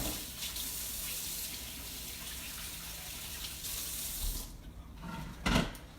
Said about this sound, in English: I'm just washing my hands real quick.